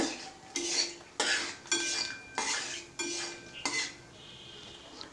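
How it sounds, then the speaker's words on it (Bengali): A dried chilli, cinnamon sticks and cardamom pods get stirred in a pan over low heat for an egg curry: sharp metal scrapes and clinks come in regular bursts about every half second, close and clear with no talk. "দিয়ে দিচ্ছি একটা শুকনো লঙ্কা, দুটো দালচিনি এবং দুটো এলাচ দিয়ে এটা কয়েক সেকেন্ড আমি নাড়াচাড়া করব"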